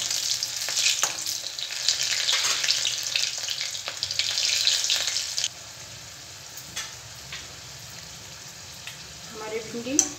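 Okra (bhindi) pakoras frying in hot oil give a loud, crackling sizzle that suddenly drops to a quieter simmer halfway through, with faint stirring clinks toward the end.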